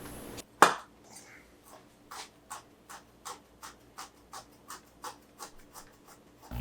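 Garlic cloves for beef shawarma get one sharp, close whack from a knife, followed by a steady series of soft, evenly spaced taps and scrapes on a cutting board.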